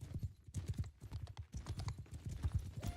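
Hooves clip-clop steadily from a mounted horse in a multiplayer battle video game, rapid evenly spaced thuds running through the whole stretch at moderate loudness with no talk over them.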